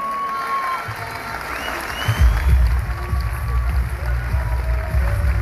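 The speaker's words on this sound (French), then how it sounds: "j'aimerais qu'on les applaudisse très fort." Audience applause and crowd noise at a women's boxing match, a sustained rumbling clap that swells after the first two seconds and carries on steadily, with faint voices mixed in.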